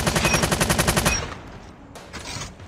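Rapid automatic gunfire from a weapon in Call of Duty Mobile, a fast steady burst of about fourteen sharp shots lasting a second, then stopping, leaving faint background noise and a couple of soft clicks.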